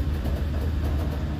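The Malabar passenger train rolls out of Blitar station, a loud steady low rumble of wheels and carriage close by for a brief moment, with no talk.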